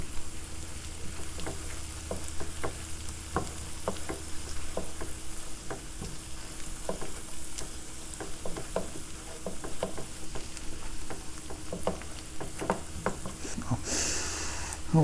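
Pepper, thyme and cayenne sizzle in a hot pan for meatloaf as a spoon stirs them, a steady crackling fry punctuated by light scraping taps, close and continuous without speech.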